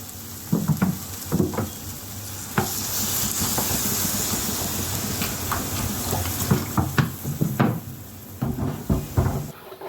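Hot masala of chilli powder and salt sizzles and hisses after a little water is added, with clattering utensil knocks and scraping stirs over a steady frying bed, close and fairly loud.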